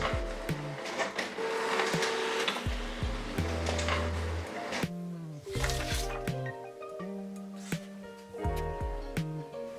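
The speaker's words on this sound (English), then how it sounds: "The printer will print print head alignment pattern." A Canon MAXIFY GX-series printer whirs and clatters in bursts, printing a print head alignment pattern, its print head shuttling back and forth with mechanical thumps and pauses between passes.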